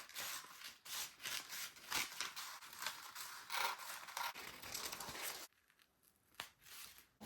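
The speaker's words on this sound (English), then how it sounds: "you come here and cut the cup area." Scissors snip and slice through corset fabric at the cup area, a close, quiet run of rasping cuts and rustling cloth. The cutting stops abruptly and faint handling noises follow.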